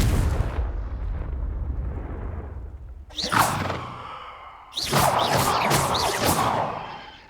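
Confringo, an explosive spell in the video game Hogwarts Legacy, goes off in loud fiery blasts with whooshing bursts, one sharp hit followed by a longer rumbling explosion over a steady background rumble.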